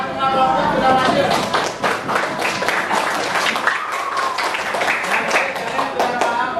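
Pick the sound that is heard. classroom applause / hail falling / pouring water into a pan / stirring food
classroom applause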